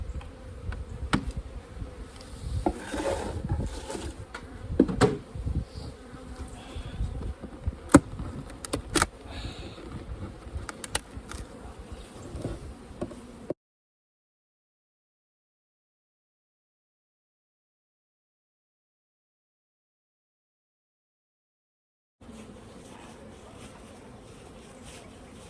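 Honey bees buzz around an opened beehive during an urban hive inspection, a continuous close humming swarm with sharp passes of individual bees, then the sound cuts out completely before a quieter buzzing returns.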